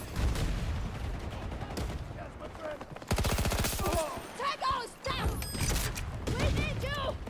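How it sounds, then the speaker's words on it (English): Machine-gun fire rattles in rapid bursts in the Battlefield video game, one loud sustained volley standing out among scattered shots, with someone talking over parts of it. "Someone's shooting from behind."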